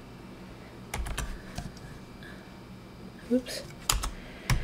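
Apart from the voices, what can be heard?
typing on a computer keyboard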